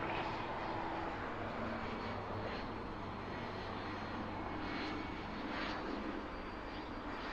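An airplane takes off from runway 05 at Toronto Pearson airport, with a steady, loud engine roar that holds throughout and no voices over it.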